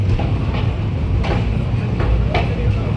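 A train pulls into Katpadi Junction, with a heavy low rumble from the rolling carriages and a few rhythmic clanks over the rails. It stays loud and close throughout.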